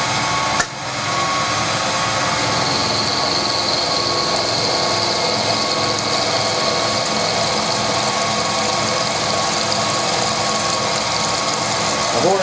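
A steady mechanical whine and hum of a milling machine running continuously, close by, with a brief knock near the start.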